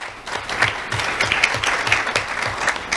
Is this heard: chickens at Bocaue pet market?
no